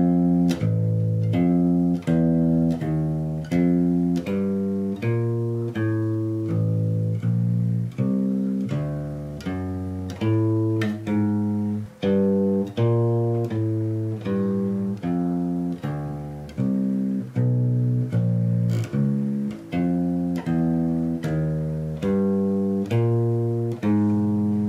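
Walking bass line on bass for the jazz standard Days of Wine and Roses, a steady stream of plucked notes with harmonic accompaniment, played continuously and clearly with no talking.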